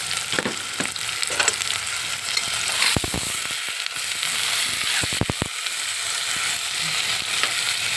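Tomato and brinjal pieces with green chilli fry in a hot pan, giving a steady loud sizzle and crackle with a few sharp stirring clatters around the middle.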